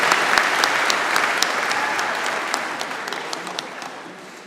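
Audience applause for a university big band at a spring convocation ceremony, a full dense round of clapping that starts strong and gradually thins and fades over a few seconds.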